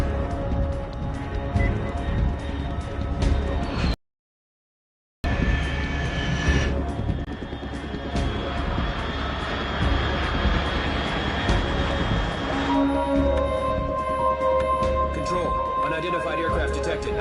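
A fast aircraft passes overhead at altitude in Metal Gear Solid 3, a steady roaring engine drone that runs throughout, broken by one brief gap of silence, with tonal game sounds layered over it.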